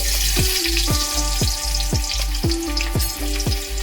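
Chopped onion frying in hot mustard oil in a kadai, a loud continuous sizzle broken by a regular series of stirring scrapes, close and without talk.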